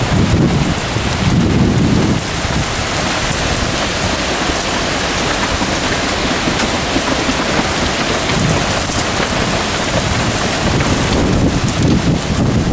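A severe thunderstorm pours heavy, steady rain with rolling low thunder swelling at the start and near the end, loud and close with wind buffeting the microphone.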